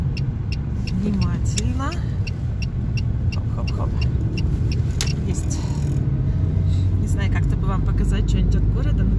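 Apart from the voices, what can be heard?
car driving and turning through Salekhard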